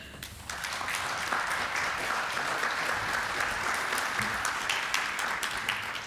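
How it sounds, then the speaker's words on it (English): Sustained applause from a large audience at an innovation summit panel session, a dense, steady wash of clapping that holds evenly throughout with no talking over it. "Let's give them a round of applause."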